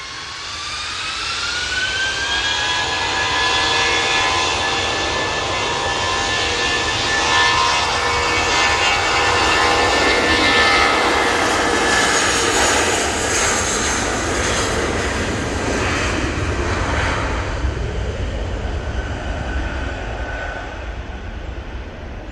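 An aircraft at Manchester Airport roars by with a loud, sustained jet engine noise, its pitch sliding gradually downward as it passes and fades over about twenty seconds.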